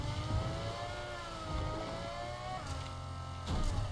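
Car engine in the video game Fortnite revving and accelerating, rising and falling in pitch over a few seconds, with a sharper burst near the end, close and alone.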